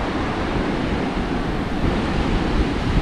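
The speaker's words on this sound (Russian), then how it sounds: "Близко не буду подходить, а то меня опять накроет волной." Stormy sea waves crash onto the beach at Dzhemete, Anapa, making a continuous, loud, broadband roar of surf and wind with no voices.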